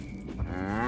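A cow moos once in the horror-themed video game The Cows Are Watching, a drawn-out, rising low call close and clear with no talk over it.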